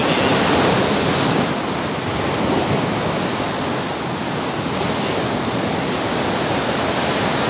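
Ocean waves roll in at Indrayanti beach at sunset as a steady, loud wash of surf that fills the whole stretch without pause, with no voices over it.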